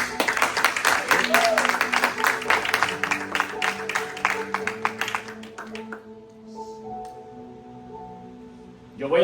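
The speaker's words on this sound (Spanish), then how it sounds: "Vamos, un aplauso" A church congregation at a discipleship class applauds with a burst of loud, fast clapping that lasts about six seconds and then stops, followed by quieter sustained tones and a brief louder sound at the end.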